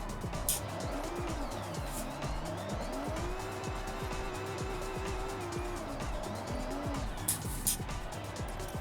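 A car lapping a track in the racing game Forza Horizon 6, its engine droning steadily with rising and falling revs, tire squeal, and brief whooshes, while background speech runs faintly underneath throughout.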